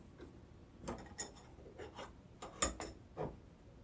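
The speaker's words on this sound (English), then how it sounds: "about that time to take off the clamps" Clamps are taken off homemade split-colored soft plastic fishing worm molds, a few faint, scattered clicks and rattling mechanical knocks at close range with no speech.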